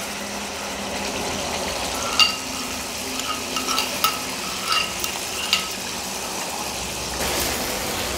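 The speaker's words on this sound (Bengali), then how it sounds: "ভালো করে নাড়াচাড়া করে একদম মশলাটা কষিয়ে নেব।" Ground cashew, melon seed and poppy seed paste with Kashmiri chilli powder being stirred and fried in a pan, a steady sizzle broken by several scraping clinks of a spoon against the pan.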